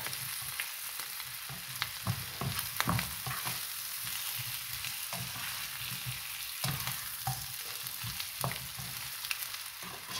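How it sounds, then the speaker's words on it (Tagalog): Pork liver and pork belly bacon fry in a pan with a steady, close sizzle and crackle, broken by occasional stirring scrapes and clinks, with no talking. "Sinagatan yung bacon. Tsaka yung liver."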